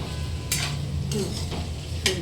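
Steady crackling sizzle of potatoes frying in a hot wok, with a few louder scraping stirs breaking through at intervals.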